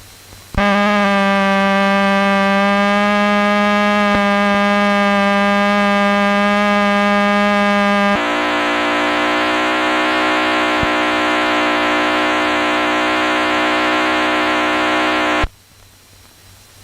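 A steady electronic square-wave buzzing tone, harsh and reedy with rich overtones, shifts to a brighter, higher timbre midway, then cuts off abruptly.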